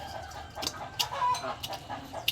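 A chicken clucks a few short times nearby by a rice field, over a quiet background, with faint bird calls mixed in.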